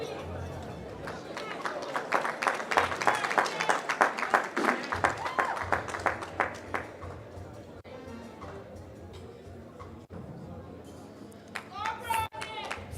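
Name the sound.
clapping for an award recipient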